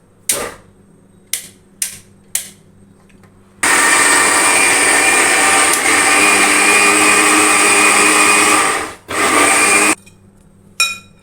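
A mixer grinder grinding coconut for coconut milk whirs loudly for several seconds after a few short bursts, then stops and pulses briefly again.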